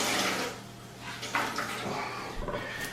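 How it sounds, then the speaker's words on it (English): Toilet bowl water is scooped out into a bucket: several short sloshing, gurgling splashes and pours come close by, with brief pauses between them and no talking. "I'm just going to take the water out and bring it into my bucket"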